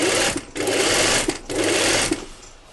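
Sewing machine topstitching along the bottom hem of a jacket, running loud and close in steady whirring stretches with two brief pauses between runs.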